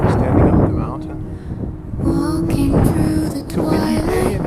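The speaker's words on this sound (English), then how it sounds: "It's a windy day" Gusty wind buffets the microphone with low rumbling roars that swell and ease on a mountainside, and voices are heard faintly behind it.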